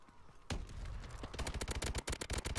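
A sentry gun opens up on enemies in Call of Duty: Advanced Warfare, starting with one heavy blast and then pouring out a dense, loud stream of rapid automatic fire that keeps going to the end.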